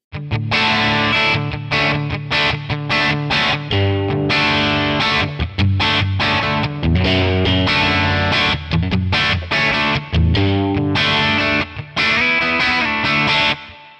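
Electric guitar through a Two Rock Classic Reverb tone model on Tonex, sustained strummed chords and picked notes ringing continuously at a strong, even level, with no voices.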